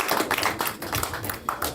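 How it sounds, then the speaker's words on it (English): Comedy club audience clapping steadily as a comedian walks on stage, a brief, fairly loud, dense round of applause from the crowd. "Keep clapping as he comes on"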